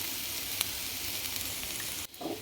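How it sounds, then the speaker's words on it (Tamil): Steady sizzling and crackling of grated coconut frying in ghee, close and continuous, with a brief dip near the end. "ஒரு முடி தேங்காய் நல்லா அந்த நெய்யில் வறுத்துக்குவோம்"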